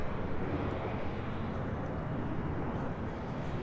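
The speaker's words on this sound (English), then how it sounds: "Next arrival is American Eagle Sky West flight 4926 coming in from Seattle, Washington" American Eagle SkyWest Embraer E175 arriving at LAX from Seattle, a continuous broad jet rumble at moderate distance, steady and unbroken for a few seconds.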